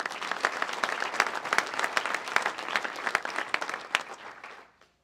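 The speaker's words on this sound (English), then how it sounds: "So please give them a round of applause." A crowd at a county State of the County address applauds steadily with dense clapping for several seconds, then the clapping tapers off and stops.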